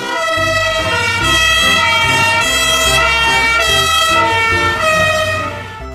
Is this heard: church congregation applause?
no